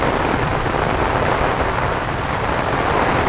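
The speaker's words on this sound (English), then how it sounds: "Oh, wow-wee. That's some rain." Dense, steady tropical downpour in the Philippines roaring without letup, a loud continuous wash of heavy rain with no voices.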